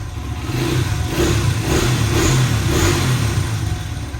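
A stock Honda CRF100 dirt bike engine fires up and runs close by, settling into a steady mid-pitched idle with a few light throttle swells, fairly quiet, no talking.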